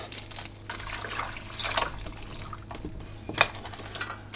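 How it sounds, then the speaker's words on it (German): Vegetables for a Maultaschen salad are rinsed under running water after soaking, giving a steady close wash of tap water with a couple of brief splashy surges. "gehe ich hin und spüle es nochmal mit Wasser ab"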